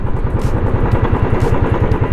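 A motorcycle rides along a road on a trip from Lucknow toward Ayodhya, its engine throbbing in a fast, even pulse. The engine sounds close and fairly loud, with road rumble and some clatter mixed in.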